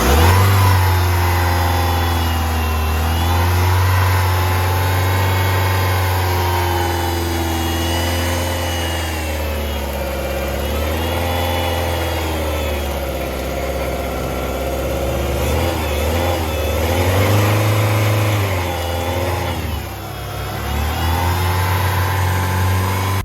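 A 2004 Dodge Neon 2.0L engine revs up and down repeatedly as its accelerator cable is pulled by hand, a loud, close, steady drone with rising and falling pitch and no voices.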